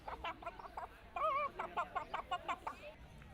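A voice imitates a chicken in a chicken clucking contest, with a run of choppy, rhythmic clucks and warbling squawks, close and fairly loud, over a faint crowd murmur.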